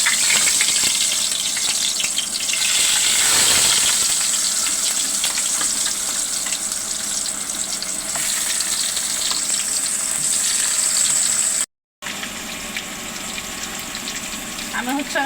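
Potatoes fry in a pan with a steady, dense sizzle that runs close and loud throughout, broken only by a brief cut near the end.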